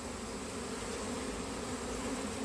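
Dense swarm of honey bees buzzing close around beekeepers' suits during a honey harvest, a continuous, even drone with no voices.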